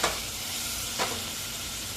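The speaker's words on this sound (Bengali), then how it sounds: "ভাজাভাজি চলছে একদম" Fish fries in a pan at a roadside dhaba kitchen, giving a loud, continuous sizzle with a brief flare of spattering partway through and no talking.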